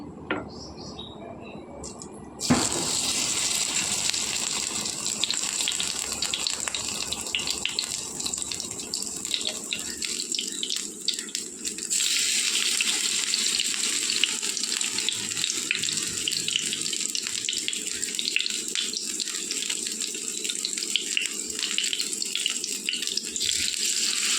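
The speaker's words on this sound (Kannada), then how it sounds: "ಇವಾಗ ಒಂದೊಂದಾಗಿ ಫ್ರೈ ಪ್ಯಾನಿಗೆ ಹಾಕುವ ಬದನೆಕಾಯಿ." Eggplant slices go into a frying pan and sizzle in hot oil, producing a loud, steady hiss that jumps up sharply after a couple of seconds and continues without a break.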